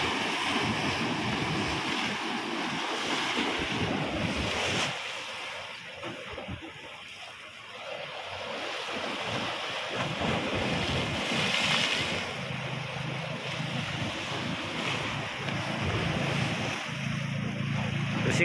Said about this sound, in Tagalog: Malalaki ang alon eh.